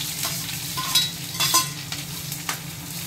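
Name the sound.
tempering spices sizzling in hot oil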